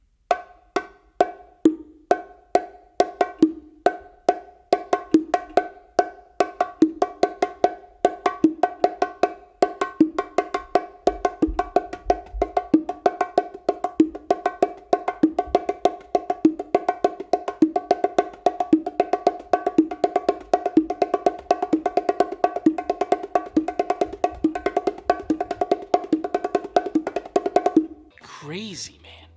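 Bongos play a full groove at a steady moderate tempo, sharp accented slaps standing out over quieter in-between taps, running continuously for nearly half a minute before stopping abruptly.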